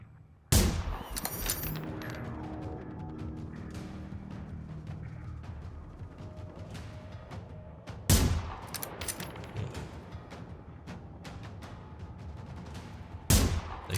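Gunfire in the Generation Zero video game: three sharp, loud shots spaced several seconds apart, each followed by a long echoing decay over a low ambient background, with no talking.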